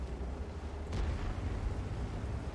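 IS-7 heavy tank main gun firing in a tank video game, a single deep boom landing about a second in over a steady low engine rumble, followed by a fading rolling tail.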